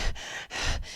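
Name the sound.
voice imitating panting from exertion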